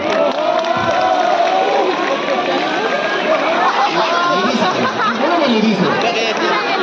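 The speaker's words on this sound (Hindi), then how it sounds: "तो जोरदार तालियां" A crowd of children and adults at an earthquake preparedness session cheers and shouts in a dense, continuous roar of babble, loud and close throughout.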